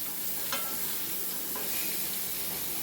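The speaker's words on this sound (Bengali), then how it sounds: "সব কিছু ভালো করে নেড়ে চেড়ে ভাজা ভাজা মতো করে নিচ্ছি" Pointed gourd pieces sizzle and fry in a pan as a utensil stirs them, a steady dense crackle with a couple of brief scrapes, close and even, no voices.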